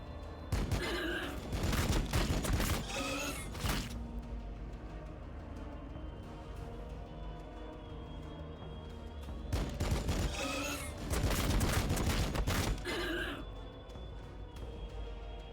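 Heavy fire support gunfire from a Warhammer 40k Battlesector battle, with two loud dense bursts of rapid shots and booms separated by a quieter stretch of rumbling background combat.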